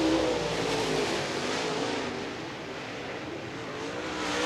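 Late model stock cars race around the I-96 Speedway oval, a steady, dense engine roar holding throughout at moderate distance, swelling slightly at the end as the pack carries on.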